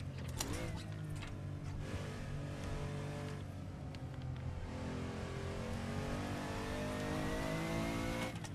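A 1980s supercar engine revs hard on a race track, a sustained loud roar with shifting pitch as the driver makes an early downshift, steady and close throughout.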